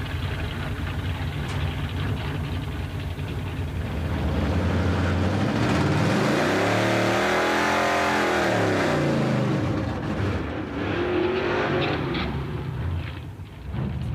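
A Roadkill Garage wreck runner race car doing a double burnout, engine revving hard with tire spin building to a loud sustained roar, a rising and falling rev sweep in the middle, then easing off near the end.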